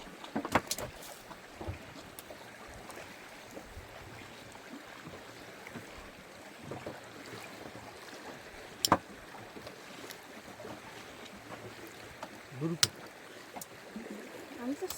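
Water washes and laps steadily around a small moving boat on a jungle river during stormy weather. Occasional knocks and splashes sound close by, and people talk intermittently.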